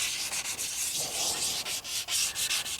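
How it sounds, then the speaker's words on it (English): Lightly wet sanding a motorcycle case cover with 1500 grit sandpaper, a close, soft rhythmic rasp of back-and-forth strokes with brief pauses between passes, heard alone. "take some 1500 grit sandpaper and just lightly wet sand the areas that I want to paint"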